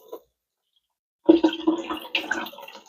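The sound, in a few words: water rinsing broccoli sprouts in a jar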